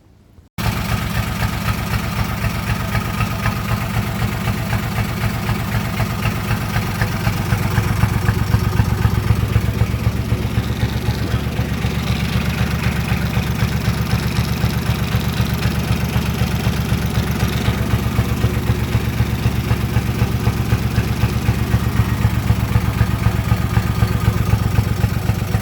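A tractor engine idles steadily and close by, a continuous low mechanical rumble with light clatter that holds throughout and swells slightly midway. No voices are heard.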